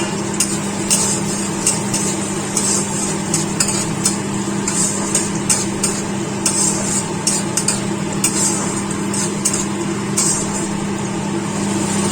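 Chopped onion fries in a hot pan with a steady, close sizzle and a constant low hum beneath it, broken by frequent sharp scraping clicks from a spatula stirring against the metal.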